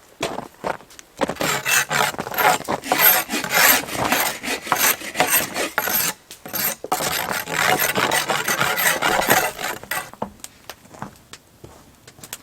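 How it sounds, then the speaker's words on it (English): Steady back-and-forth rasp of a hand saw cutting through wooden beams for a bushcraft shelter, close and loud, in two long sawing bursts with brief pauses between. "So going to start sawing these away to the right length"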